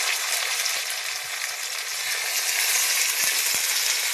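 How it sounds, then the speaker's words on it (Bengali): Chopped onion, tomato and green chilli sizzle steadily in an oily pan alongside bay leaves, a bright, continuous hiss with a few soft knocks from stirring, close and alone without talk. "পেঁয়াজ আর টমেটো আর লঙ্কা এগুলোকে আমি একটু ভেজে নেব"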